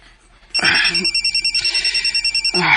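A cellphone rings with a bright, rapidly pulsing electronic tone that stops and starts again, loud and close, with a brief burst of speech before the ringing.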